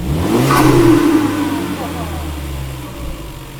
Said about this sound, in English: Oh, way more compressor surge.